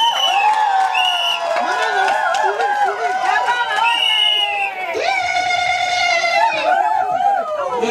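A wedding crowd applauds and cheers, with whoops and excited chatter mixed into steady clapping and several voices calling out loudly throughout.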